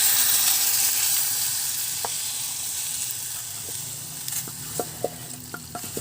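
Softened, pre-boiled mung beans tip into a hot pan of monggo with lechon, starting as a steady broadband sizzle that fades slightly, followed by a few sharp clicks and scrapes of stirring near the end.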